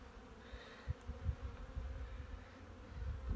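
Buckfast honeybees hum in a low, steady drone during a February hive inspection after winter, with faint handling thumps from the frames beneath the buzzing.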